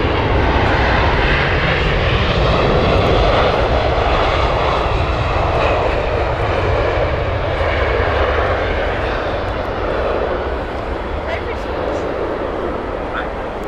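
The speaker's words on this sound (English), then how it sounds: "the Houston flight from United with their 777-200." A United Boeing 777-200 jet on the Houston flight roars loudly and steadily at Heathrow Airport, a broad sustained engine rumble that eases slightly toward the end.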